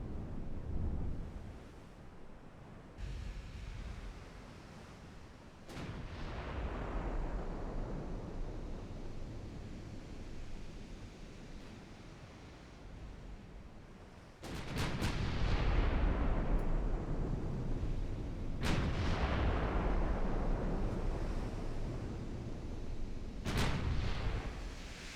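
Heavy naval guns fire HE shells in a 1910-era naval warfare game, a few booming salvos each rolling into a long decaying rumble over a steady wind-and-sea background, loud and close.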